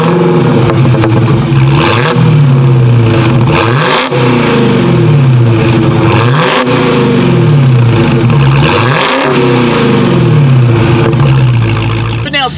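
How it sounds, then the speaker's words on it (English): 2016 Dodge Charger SRT Hellcat with a dual exhaust, revved repeatedly from close by, the engine surging up and falling back in several loud bursts. "Here is that awesome exhaust clip."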